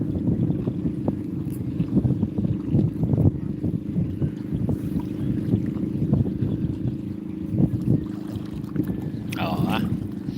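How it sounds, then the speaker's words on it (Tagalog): A small motorboat engine rumbles steadily nearby on Laguna de Bay, its low drone mixed with wind buffeting the microphone. "parating na bangka maliit na bangka ang lakas ng tunog"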